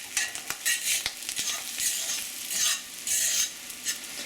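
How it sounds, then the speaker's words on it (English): Caramelized fried corn cooked with butter is scraped off a pan, repeated short scraping strokes over a light sizzle, close and fairly loud, with no talking. "It's really kind of sticking to some of the pan a little. Scrape that up."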